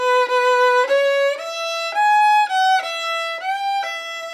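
Solo violin playing the melody of a song, a clear sequence of bowed notes with small slides between pitches, close and loud with no accompaniment or talk.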